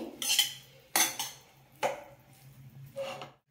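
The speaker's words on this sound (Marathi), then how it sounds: "भात छान मोकळा करून घ्यायचा आहे आपल्याला उलटीने।" A spatula scrapes and clanks against a pan while loosening and tossing vegetable fried rice, four separate metallic strokes spaced about a second apart, close and fairly quiet over a low steady hum.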